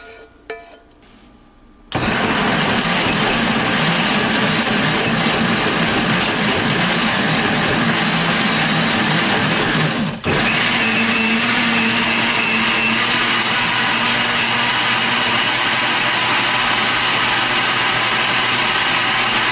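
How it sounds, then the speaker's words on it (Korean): After a brief quiet moment, a blender roars to life and runs steadily at high speed, blending spinach pesto sauce ingredients, whirring loudly and continuously for the rest of the clip. "잘 준비된 소스 재료를 믹서기에 넣어주세요."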